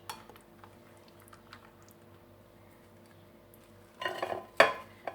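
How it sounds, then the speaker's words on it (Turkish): Two cloves of garlic are stirred into yogurt in a bowl. After a nearly silent stretch, a few close scraping and clinking strokes of a utensil against the bowl come at the end, with no talking. "İki adet sarımsağımı yoğurdumda şöyle karıştırıyorum arkadaşlar."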